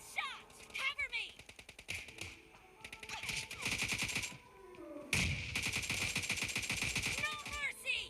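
Rapid bursts of automatic gunfire crackle in a PUBG Mobile Lite team deathmatch, dense rattling volleys with short gaps, mixed with game sound effects and in-game voice callouts.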